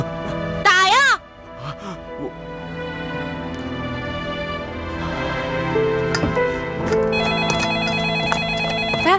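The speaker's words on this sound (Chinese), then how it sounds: "你接电话呀？" A telephone rings in a home during a Chinese domestic drama scene, repeating tones sitting under voices and background music.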